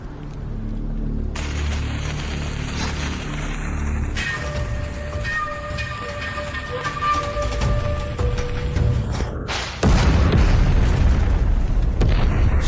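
A gunpowder charge blasts open a gate with a deep, heavy boom, a low rumble building before a sudden loud burst near the end.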